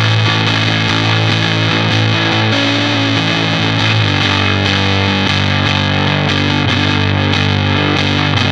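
Electric guitar runs through an overdrive pedal with both boost and drive turned up, producing a dense, heavily saturated, extreme distorted roar of sustained chords, loud and unbroken throughout, with no talk.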